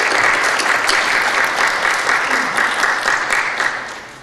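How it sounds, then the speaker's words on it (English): A warm round of audience applause fills a hall at an international academic conference on trade, a dense, loud, steady patter of many hands that tapers off near the end. "So please give him again a warm round of applause."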